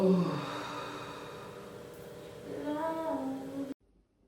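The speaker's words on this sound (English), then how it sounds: "footage of when I was in labor with my second daughter of myself using this breathing technique" A woman in labor with her second daughter uses a controlled breathing technique: a long, voiced, sighing exhale that fades, then a second rising breath that cuts off abruptly into silence.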